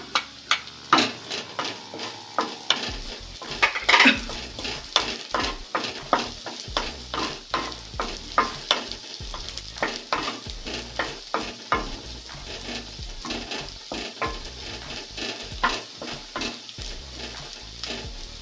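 Vegetables, starting with the white parts, fry over low to medium gas for vegetable soup, with steady sizzling and a busy run of stirring scrapes and clicks throughout, close and alone.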